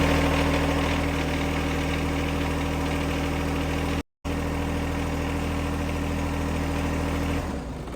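A John Deere 1025R lawn tractor engine idles steadily after an oil change, a loud continuous close rumble with one momentary dropout and a slight fade near the end.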